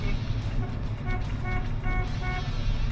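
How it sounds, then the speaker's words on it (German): A Ford F350 pickup truck's horn honks in short repeated blasts, three or four steady toots close by over a continuous engine and road rumble, during a vehicle inspection. "auch mal auf die Hupe treten"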